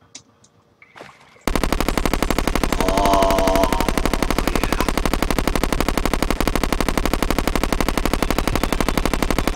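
The SDMG gun in Terraria fires in a rapid, unbroken stream of loud shots that runs without pause after a short quiet start.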